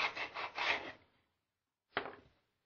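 A drill-driven sanding bit rasps inside a model rocket body tube, a rough rubbing burst of about a second followed by silence and then a shorter second pass.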